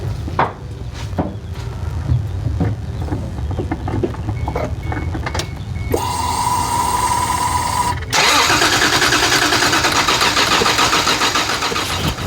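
A Toyota Supra with a dead battery, after sitting unused for about a month, cranks repeatedly in uneven bursts, then the engine catches and settles into a loud, steady run nearby, with no talk.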